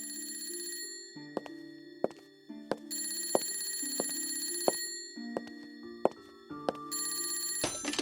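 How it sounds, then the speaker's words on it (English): An old-fashioned telephone bell rings in a series of bright, metallic trills with short gaps, struck repeatedly at a steady pace, moderately loud and alone. "the telephone rang"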